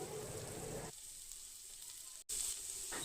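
Cumin, mustard seeds and asafoetida sizzle and crackle in hot oil, a close, steady frying hiss that dips briefly, breaks off for a moment, then returns louder; no one speaks.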